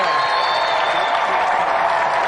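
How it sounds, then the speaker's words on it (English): A studio audience bursts into applause on the GamesMaster television show in 1993 after an arm-wrestling bout, a dense, steady wash of clapping that holds at full strength throughout. "Round of applause for Tony Duray"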